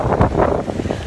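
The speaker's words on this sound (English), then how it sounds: "It's really windy." Gusty wind buffets the microphone in a steady, rough rumble, with no talking.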